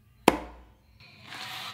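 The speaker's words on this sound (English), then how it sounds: "a close slap with your dominant hand on the drum." One crisp, close slap lands on a hand drum with the dominant hand while the other hand rests on the drumhead, giving a short, muted crack that dies away quickly before a faint hiss.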